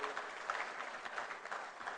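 Audience applause at the Merck Foundation Africa Asia Luminary 2025 conference in Banjul, The Gambia, a steady dense patter of many hands clapping in a hall, fairly even throughout with no voices.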